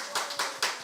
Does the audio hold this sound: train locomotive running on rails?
no